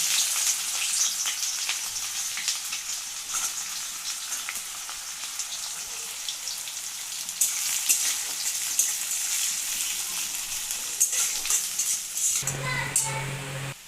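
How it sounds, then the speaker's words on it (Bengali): Chopped onion and garlic fry in mustard oil, giving a steady close sizzle and crackle with light stirring, and a brief clatter of a utensil near the end. "পেঁয়াজ রসুন লাল লাল করে ভাজা হয়ে গেছে"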